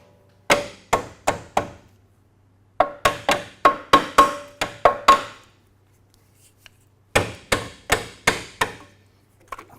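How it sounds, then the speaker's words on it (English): A hammer strikes Mustang front suspension parts in sharp metallic blows, delivered in three quick volleys of four to eight hits each with brief silences between them. "grab my hammer"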